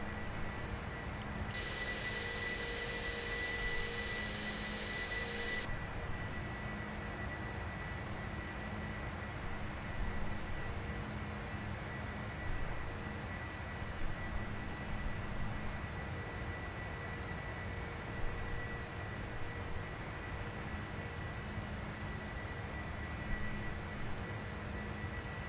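Boeing 747-400F freighter engines roaring at takeoff in the P3D flight simulator, a steady loud broadband jet rumble with a constant whine, alone without talk throughout.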